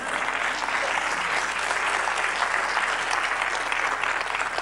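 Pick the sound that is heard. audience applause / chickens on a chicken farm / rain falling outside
audience applause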